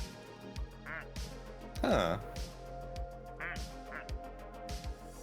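Duck quacks used as Morse code in a video game, a series of short nasal quacks in an irregular coded rhythm, with a low pulsing backing beneath and a voice cutting in briefly.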